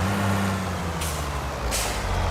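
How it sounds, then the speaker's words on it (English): Two short air-brake hisses from a dump truck in Farming Simulator 25, about a second apart, over a steady low diesel idle rumble. "We can park our dump truck in here."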